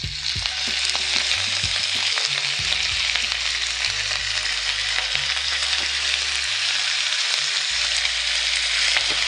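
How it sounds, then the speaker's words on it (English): Pork skewers sizzling in olive oil on a hot griddle, a dense steady frying hiss with occasional pops and some low scraping or stirring noises, close and continuous. "can hear the sizzle, and then that means your pan is really hot."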